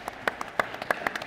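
Scattered hand claps from a panel discussion audience on farm machinery and soil management, a handful of sharp, uneven claps spread across a brief moment, fairly quiet and close.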